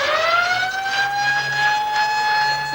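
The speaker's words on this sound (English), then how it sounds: "The siren's going to go as he does so." The final siren sounds at a 2000 SWFL League Grand Final Australian football match, one loud sustained wailing tone that rises slightly and holds steady over crowd noise.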